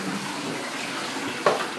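Tap water pours steadily into a bathtub to bathe a pet raccoon, a continuous close rushing gush with a brief clatter near the end and no talk over it.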